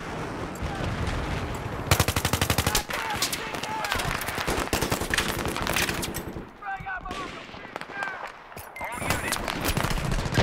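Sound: gunfire in video game Battlefield 3

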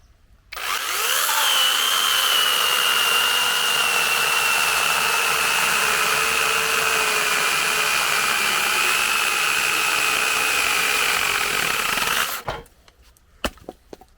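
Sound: DeWalt cordless mini chainsaw cutting thicker wood

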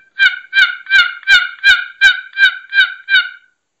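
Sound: box call imitating soft turkey hen calling

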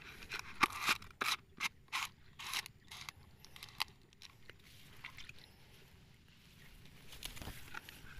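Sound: shaking powdered herbicide in a container

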